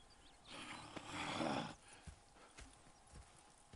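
A horse in Red Dead Redemption 2 whinnies loudly for about a second, followed by scattered hoof clops and shuffling movement nearby.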